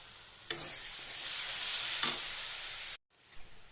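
Spiced masala and potatoes fry in a pan for a mushroom curry, giving a steady close sizzle with a couple of stirring scrapes before a brief cut and then a quieter return.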